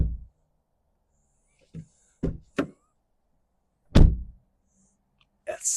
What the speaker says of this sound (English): listen to the door closing.